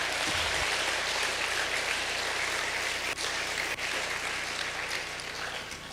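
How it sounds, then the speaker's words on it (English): At a running camp morning session, a room full of people gives sustained applause, a steady wash of clapping that stays loud throughout with little variation. "Let's give him another round of applause"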